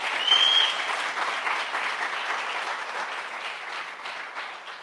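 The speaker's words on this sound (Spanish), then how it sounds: "Denle un aplauso al Señor." A church congregation applauds steadily and fairly loudly throughout, a dense wash of many hands clapping at once with no voices standing out.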